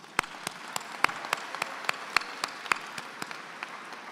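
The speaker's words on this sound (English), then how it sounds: "Let's give them a round of applause." A graduation ceremony crowd applauding, with distinct, scattered hand claps ringing out in an uneven rhythm over a soft wash of clapping, heard from a distance in a large hall, with no voices.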